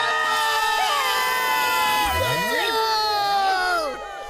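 Cartoon crowd of people shouting and screaming in fear of an anaconda, loud and continuous with overlapping voices and whoops over music.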